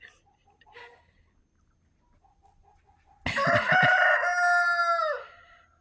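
Chickens give a few soft, scattered clucks, and then a rooster lets out one loud, close crow lasting about two seconds.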